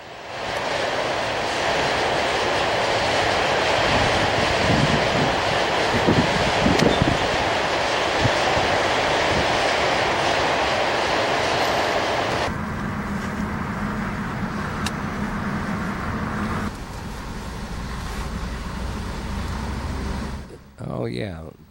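Train rolling past at Milwaukee Junction in Detroit, a loud sustained rumble and rattle that cuts off abruptly partway through, leaving quieter street ambience with faint talk.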